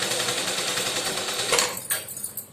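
Domestic sewing machine running a steady stitching burst while sewing a double seam on a lined blouse, a continuous close whir that stops briefly near the end then restarts in short pulses.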